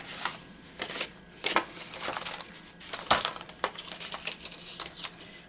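Paper is cut down with scissors while a journal cover is decorated, giving repeated crisp snips and rustles, close and fairly loud, in an irregular rhythm with no talking.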